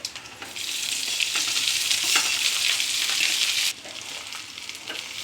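Loud continuous sizzling with scraping stirs as cooked rice is mixed into a tempering in a frying pan, dropping to a quieter sizzle near the end.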